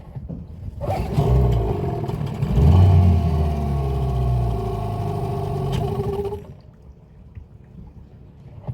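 A Hangkai 18 outboard motor on a test run starts with a burst and runs steadily at close range for several seconds, then cuts out abruptly, leaving faint background noise.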